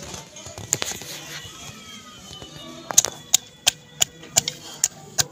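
Green chilli, garlic and ginger are pounded for a Pakistani palak dish, giving sharp, evenly spaced knocks, a few scattered at first and then a steady run of about eight strikes, close and distinct.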